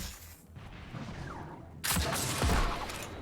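Primary weapon fire in the shooter game Destiny 2 during a Lost Sector run, a muffled stretch then a sudden loud burst of rapid gunfire with crashing impacts continuing to the end, no talk.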